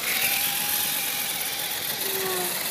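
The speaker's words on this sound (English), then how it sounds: "Allison driving the Yeti" Axial Yeti XL RC truck driving, a steady high-pitched electric motor whine with a shifting buzzing tone, continuous and fairly loud throughout.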